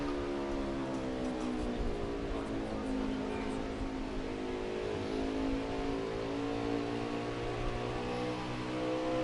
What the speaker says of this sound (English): listen to the sound of that beautiful motor go off